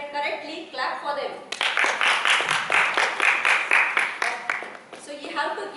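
An audience at a medical quiz competition claps for a team that answered correctly. Speech comes first, then a burst of fairly rhythmic group clapping, and talk resumes as it fades out.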